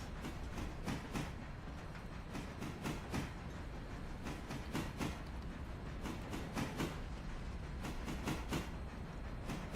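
A train running in the Railroader video game, with continuous rolling rumble and a steady rhythm of repeated rail clicks and clatters throughout, no voices.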